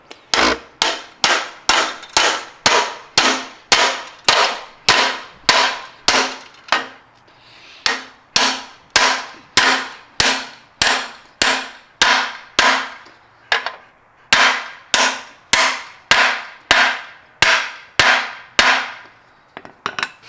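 Repeated hammer blows knocking a bushing out of a BMW E30 rear beam arm, sharp metallic strikes in a steady rhythm of roughly one to two per second, loud and close with no talking.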